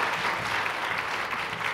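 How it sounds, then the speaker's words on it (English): A church congregation applauds during a Sunday morning service before a children's Christmas musical, a dense, steady wash of clapping heard up close with no voices on top. "go ahead and give the Lord a round of applause for what's about to happen here this morning"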